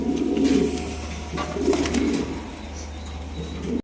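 Indian breeding pigeons coo in low, repeated throaty phrases, close and fairly loud, with faint wing flutters and other birds in the background.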